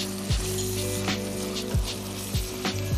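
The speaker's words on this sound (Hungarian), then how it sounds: "Hadd süljön egy picit össze a hagymával." Meat browning with onion in a pan, a steady crackling sizzle alone at close range, with a spoon stirring and scraping every half second or so.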